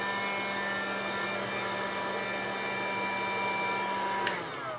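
Heat tool drying black gesso on an MDF panel, a loud, steady motorized whir and hiss close by, continuous and unbroken with a small click near the end.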